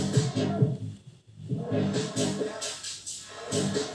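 Music with a filter effect from a Numark Mixtrack Pro FX DJ controller sweeping across it, muffling the track down to a thin, hollow sound and then opening it back up, twice in a row.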